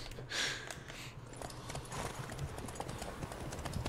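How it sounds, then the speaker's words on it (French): Armored horses' hooves clip-clop at a steady trot in The Witcher 3: Blood and Wine, a faint continuous rhythm of hoofbeats without speech. "Et nous allons à Toussaint sur des chevaux avec armure."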